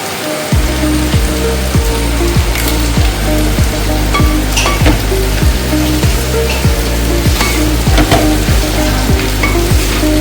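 Mustard seeds crackle and sizzle in hot oil while tempering an elephant yam flower thoran. The frying hiss is loud and steady, with a regular, evenly spaced ticking running underneath the whole time.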